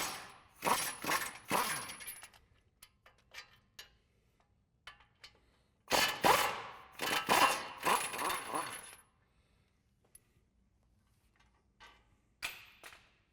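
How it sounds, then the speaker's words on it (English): Ratchet and socket work on the front brake caliper bolts of a 2015-2020 Ford F-150, behind the steering knuckle: close metallic clicking bursts and clatter in three separate spells, with quiet gaps between. "we're going to use our 21 millimeter socket on the back of the steering knuckle here to remove our brake caliper"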